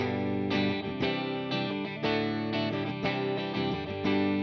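Distorted electric guitar chords through the Soundmaster amp simulator with its built-in cabinet and no reverb, strummed in a steady rhythm with sustained crunchy tone, close and fairly loud, no voices.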